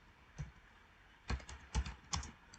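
Python code is typed on a computer keyboard, a quiet single keystroke followed by a short burst of several clacks, close and soft.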